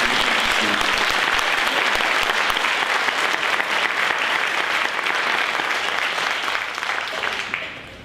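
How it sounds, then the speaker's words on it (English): A live vaudeville-style show audience breaks into dense, sustained applause, loud and continuous for about eight seconds before tapering slightly at the end, with no clear talking over it. "Round of applause for Harmony,"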